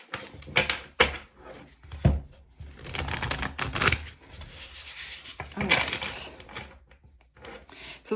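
Tarot cards being shuffled by hand, giving repeated rough riffling and rubbing bursts with soft taps in an uneven rhythm, close and fairly loud, without talk.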